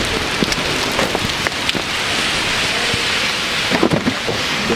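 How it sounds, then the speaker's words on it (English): Steady rain pours down in a thunderstorm outdoors, a dense continuous hiss with scattered heavier drops and a rumble of thunder swelling near the end, no voices. "It's raining out, huh?"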